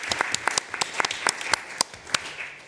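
An audience at a parliamentary conference on AI in London applauds, a brisk burst of many hands clapping together indoors, fairly loud and close, fading slightly toward the end.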